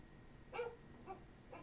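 A synthetic talking-computer voice imitates a dog, giving three short, close bark-like yelps spaced about half a second apart with no other sound.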